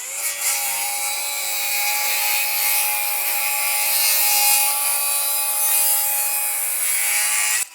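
A FLEX 24V cordless reciprocating saw plunge cuts through a treated 6x6 timber, a loud, continuous, rasping buzz that holds steady for about seven seconds before stopping abruptly.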